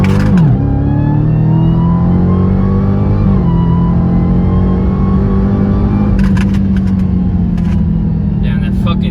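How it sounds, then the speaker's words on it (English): A 2021 Dodge Charger Hellcat Widebody Redeye on Toyo R888R tires accelerating hard in second gear, deep engine roar rising in pitch with a steady supercharger whine on top, close and loud, with people talking over it. "that fucking supercharger just whines all day"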